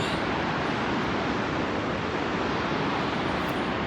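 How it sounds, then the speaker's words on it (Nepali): A river rushes below a mountain trail on the Manaslu trek, a dense, steady roar of flowing water heard from a distance, with no pauses. "यो तल खोला"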